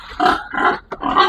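A pregnant sow grunts three times in quick succession, close and fairly loud, with short pauses between the rough, nasal grunts.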